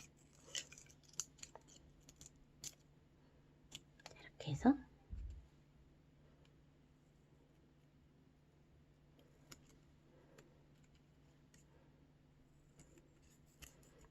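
Scissors snipping colored paper for a folded finger puppet, a few soft close cuts and rustles with a brief louder handling thump in the middle, then a long quiet stretch with occasional small taps.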